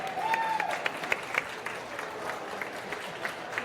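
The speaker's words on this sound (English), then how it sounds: "Applause, please." An audience applauds at a live TV interview with Game of Thrones stars for HBO Bulgaria: a steady, even wash of clapping at moderate distance, opening under a brief tonal sound, with a few sharper individual claps.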